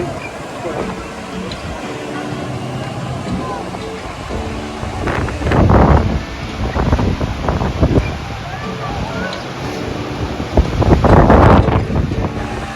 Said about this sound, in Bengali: আজকে সমুদ্র খুব উত্তাল